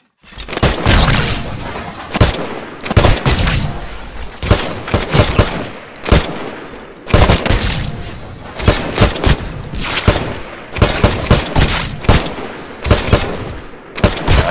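Rapid bursts of rifle fire in the Titanfall PC tutorial shooting gallery crack repeatedly in loud volleys, with short pauses between strings of shots, echoing sharply.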